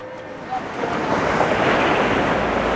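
Surf washing onto a small island shore in the Dominican Republic, a loud, steady roar of breaking waves with wind buffeting the microphone, and no other sound standing out.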